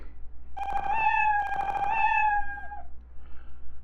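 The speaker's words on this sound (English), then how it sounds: "when it touches the balloon, it hits the meow sound" A cartoon cat meow sound effect in a Scratch program plays twice in quick succession, each call long and bright with a wavering pitch, loud and clear against near silence.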